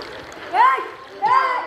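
Two rhythmic water splashes from someone swimming, close and fairly loud, spaced under a second apart, with voices talking over them.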